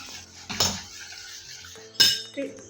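A metal spoon stirs a cooked coconut and milk mixture inside a pressure cooker, making two sharp clinks against the pot about a second and a half apart, with quieter scraping between them.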